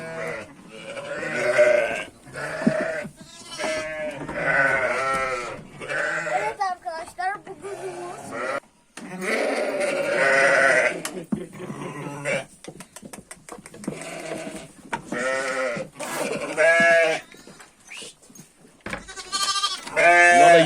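Sheep and newborn lambs about a week old bleat repeatedly, high and low calls overlapping close by, with someone speaking now and then.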